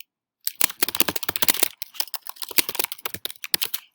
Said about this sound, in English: as soon as my typing catches up with me